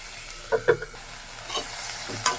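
Chicken fries in a pan for a Bengali mashed chicken dish, a soft continuous sizzle with a few quick spatula scrapes and knocks close by.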